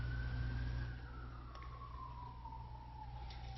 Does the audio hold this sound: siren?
yes